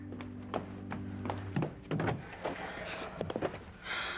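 A door opens indoors in a soap opera scene, heard as a few soft thunks and taps with brief rustling and shuffling, fairly close and moderately loud, with no speech.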